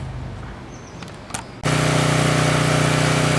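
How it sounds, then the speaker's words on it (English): A gas pressure washer starts up partway through and runs loud and steady, a constant engine drone with a strong tonal hum that fills the rest of the clip, following a quiet outdoor stretch. "You hear the pressure washing or running in the background."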